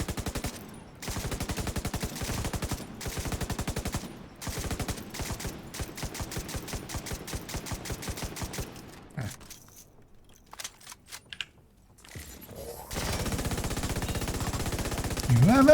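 A light machine gun fires in an online shooter game, rattling in rapid bursts with short pauses between them, close and loud, before a quieter stretch and another sustained burst; players talk faintly in places.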